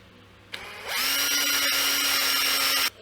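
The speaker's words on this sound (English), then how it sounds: "drill slowly and come out the other side" A power drill spins up and bores steadily and slowly through wood for about two seconds, a sustained close whine with a faint click before it starts.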